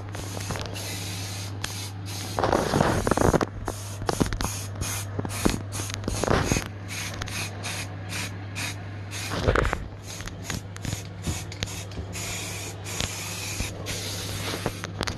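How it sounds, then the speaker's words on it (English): Aerosol spray can applying a last coat of primer to a case, with repeated hissing bursts of varying length, close and fairly loud, a few stronger sprays standing out over a constant low hum. "Nearly running out of the primer, so just the last coat up there."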